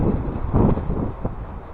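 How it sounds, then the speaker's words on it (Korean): Strong, gale-like wind blows on a rocky coast during rain, buffeting the microphone with a continuous low roar and gusts, heard alone. "근데 이 바람 소리 들리시죠 지금?"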